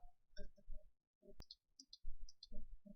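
A computer mouse clicks a few times, faint and close, during account sign-up on a computer, with quiet breath and desk noise between the clicks.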